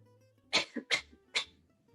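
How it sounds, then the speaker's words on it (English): Three short, sharp coughs in quick succession, close and fairly loud, with brief pauses between them and no talking. "She coughs 3 times."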